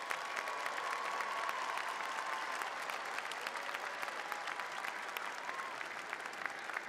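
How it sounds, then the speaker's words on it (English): Applause for faculty at a university commencement ceremony, a broad, sustained roar of clapping from a large crowd that stays even throughout, with faint cheering mixed in. "graduates, let's give our faculty a huge round of applause"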